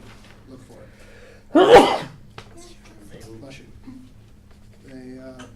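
A single loud sneeze bursts out near the mic partway through, with quiet conversation before and after it.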